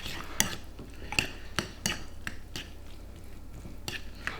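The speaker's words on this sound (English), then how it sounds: "Now we're going to mix the beans." Beans are stirred in a bowl with balsamic vinegar for a home-kitchen cheesy beano, with a spoon scraping and clinking against the dish in irregular, close taps and soft squishy mixing between them.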